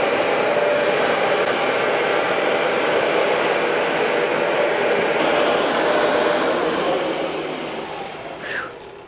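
A Bissell carpet cleaner drones steadily as it runs over carpet, a loud whirring motor with suction rush that holds level and then tapers off near the end with a brief shift in pitch.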